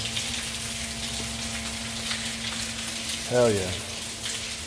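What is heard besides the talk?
sump pump pumping water out of the sump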